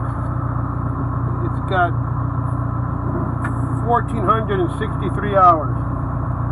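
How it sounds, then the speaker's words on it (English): A John Deere 410E 4x4 backhoe loader engine idles steadily in the background, a low continuous drone beneath someone talking throughout. "Motor sounds sweet. Sounds really good."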